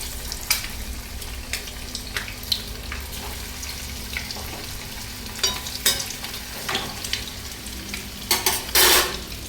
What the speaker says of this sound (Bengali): এবার একদিকে তেল গরম করাতে বসিয়ে দিয়েছি, একদম যখন তেল হুসহুসে গরম হয়ে যাবে তখন আমি একটা করে ডিমের টেবিল ছেড়ে দেবো